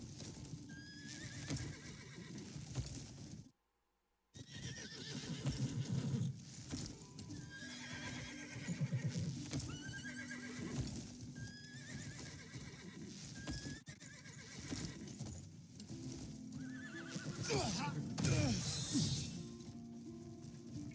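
A horse being tamed in a video game whinnies repeatedly over clip-clopping hooves and scuffling, fairly close, with a short silent break near the start.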